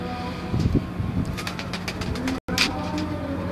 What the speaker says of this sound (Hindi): ये उनके टैडी कबूतर हैं जी, जो उन्होंने अपनी मेहनत से तैयार किए हैं।